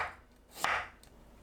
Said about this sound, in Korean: 당근을 믹서에 갈기 좋은 크기로 대충 썰어줍니다.